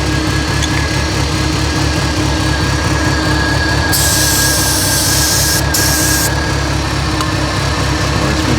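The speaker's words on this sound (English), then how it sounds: "I'm going to brake clean that off again." Brake cleaner sprayed onto power steering parts of a 1985 Merkur XR4Ti: a loud, steady hiss bursts in over a constant droning background, pausing briefly before one more short spray.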